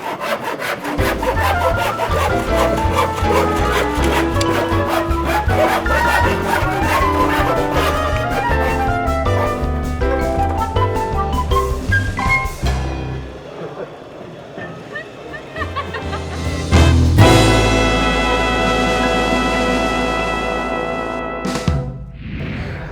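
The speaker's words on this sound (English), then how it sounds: "I can beat anybody sawing." Rapid, rhythmic strokes of a handsaw cutting through wood, close and loud, with a steady back-and-forth rasp before the sawing stops.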